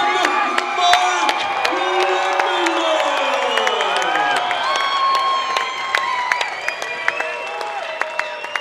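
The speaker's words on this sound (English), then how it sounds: "The sold-out crowd loves it here" A sold-out crowd at a Chosen Few Fighting Championship MMA event cheers, whoops and applauds loudly and steadily after a welterweight title win, the roar dense and continuous with scattered sharp claps throughout.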